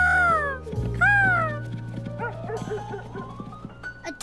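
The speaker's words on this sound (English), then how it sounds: "Dog barking, woof woof." A dog barks several times in short bursts, moderately loud, mixed with other background sounds.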